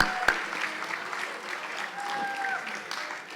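Audience applause and cheering for class officers and leaders at a class reunion dinner, a broad steady wash of clapping across the whole stretch with faint voices mixed in.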